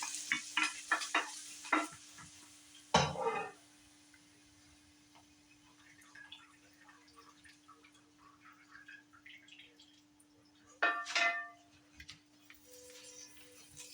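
Ham frying in a pan on a stovetop, a quiet continuous sizzle with soft crackles, broken by a few louder clinks and scrapes of a utensil near the start and again near the end, no talking.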